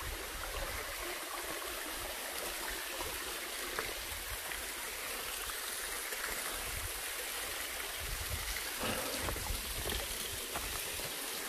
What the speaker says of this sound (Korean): 실폭포.